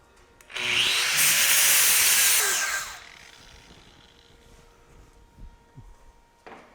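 Angle grinder fitted with a Klingspor grinding disc grinding down a weld, a loud harsh whine for about two and a half seconds that then cuts off, leaving quieter workshop noise.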